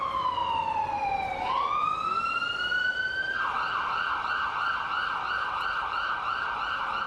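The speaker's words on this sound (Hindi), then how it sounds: "एम्बुलेंस जान बचाने के लिए दौड़ रही है।" An ambulance siren wails through Kyiv after a missile attack, a loud sustained tone sweeping down and up before switching to a rapid warbling yelp, close and continuous.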